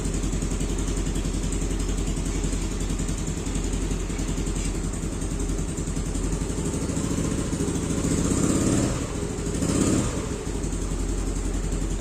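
An old motorcycle engine left unused for a long time, idling steadily up close with a constant rumbling throb, then revving briefly twice near the end.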